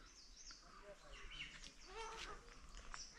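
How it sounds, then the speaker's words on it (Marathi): Birds chirp and twitter in a quiet, green Konkan village, with faint, scattered high calls over a hushed background throughout the short stretch. "पक्ष्यांचा किलबिलाट"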